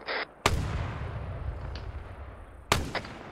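Two heavy artillery shots in a video game, each a sharp boom with a rumbling tail, the first near the start and the second closer to the end, with brief radio-style chatter in between.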